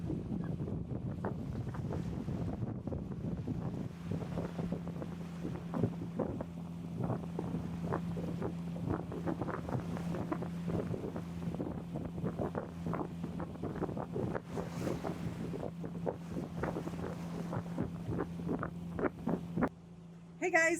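Steady engine drone of a trawler cruising at sea, heard from the open flybridge with continuous wind buffeting the microphone and a few voices chatting over it.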